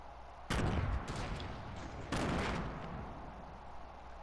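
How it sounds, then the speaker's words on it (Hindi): Two loud, close pistol shots from Fortnite squad play, each with a long booming tail, fired about one and a half seconds apart. "ये पिस्टल कौन मार रहा है"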